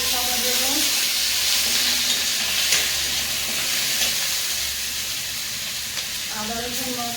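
A bay leaf goes into hot cooking oil in a home kitchen, giving a steady, close hiss of sizzling frying throughout, while voices talk briefly at the start and again near the end.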